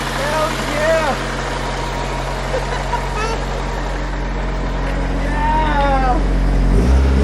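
A neglected Mitsubishi Evo 8 engine idles steadily on its first start-up in eight years, a low continuous rumble running throughout, with excited voices talking over it.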